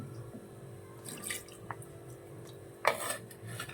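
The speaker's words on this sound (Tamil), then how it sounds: "இப்போ அந்த தண்ணி கொஞ்சம் ஊற்றி நம்ம கழுவிக்கலாம் கீரையை." Arai keerai greens are rinsed in water in a kitchen: quiet drips and small splashes, with a couple of light clinks from a vessel.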